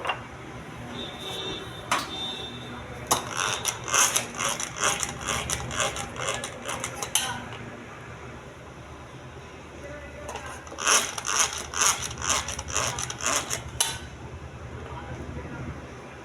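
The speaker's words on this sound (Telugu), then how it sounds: "పెరుగండి, మజ్జిగ చిలుకుతానండి." Curd being churned into buttermilk with a hand churner, giving bursts of rapid rattling, clicking strokes in two spells, close and fairly loud, with quieter handling noise between them.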